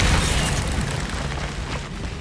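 A booming slam from the Descendo spell in Hogwarts Legacy, a loud explosive impact that rolls on in a deep rumble for about two seconds.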